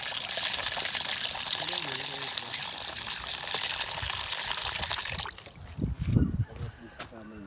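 Water runs in a steady broadband rush for about five seconds while washing an injured hand, then stops, giving way to excited voices and a brief yelp.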